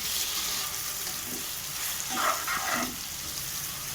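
Onions, tomatoes and green chillies frying in a pot for mutton biryani, a soft continuous sizzle with a couple of scraping stirs from a spoon, fairly quiet and close.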